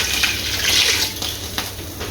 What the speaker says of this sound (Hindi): तो इसके अंदर पानी ऐड कर देना।